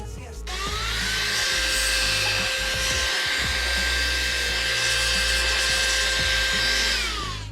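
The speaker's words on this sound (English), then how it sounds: "a electric air duster. This is an alternative for the compressed air dusters." A USB electric air duster, a rechargeable alternative to canned compressed air for dusting anime figures, spins up into a loud, steady high-pitched whine with rushing airflow and holds it for several seconds, with a brief dip partway through.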